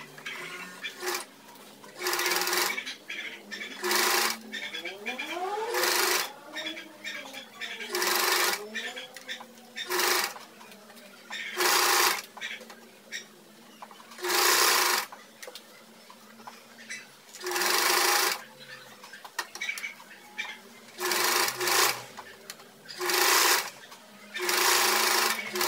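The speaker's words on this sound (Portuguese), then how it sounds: "a gente vai costurar em aqui aberto pra não pegar a manga" Sewing machine stitching the open seam of a blouse sleeve, running in repeated loud bursts of a few seconds each, separated by brief pauses, with someone talking quietly between the runs.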